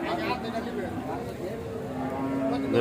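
A cow at a rainy open-air cattle market in Aricha, Bangladesh, gives a low drawn-out moo close by, heard beneath someone talking and the general murmur of the market.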